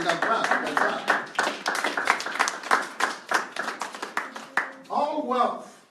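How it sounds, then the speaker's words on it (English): Audience clapping in rhythmic bursts during a motivational talk, with voices speaking over the claps throughout. "you can clap."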